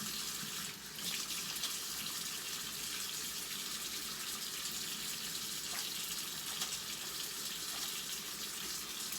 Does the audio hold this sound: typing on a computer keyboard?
no